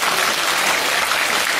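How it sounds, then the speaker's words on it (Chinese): A theatre audience applauds warmly at a musical's curtain call, a brief dense burst of clapping at full volume. "把最热的掌声给到他们"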